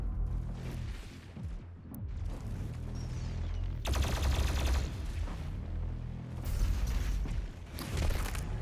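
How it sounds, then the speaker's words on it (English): A plasma rifle fires in Doom Eternal in rapid sustained bursts amid dense, loud combat noise and heavy low rumble, with brief pauses between volleys. "Plasma rifle"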